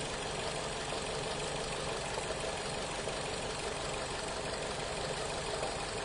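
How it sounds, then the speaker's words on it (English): A car engine idles steadily with a misfire after a cylinder is unplugged, a constant, even mechanical hum with a faint uneven knock, heard close and alone for several seconds. "Hear the idle change a little bit?"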